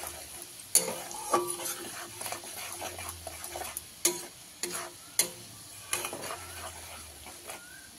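Paneer masala fries in a pan as turmeric, Kashmiri chilli and coriander powder are stirred in, with a soft sizzle under repeated clinks and scrapes of a spoon against the pan, no voices.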